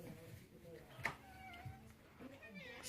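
A hungry house cat meows at mealtime, giving a few soft, drawn-out meows with a sharp click partway through, while a person talks quietly over them.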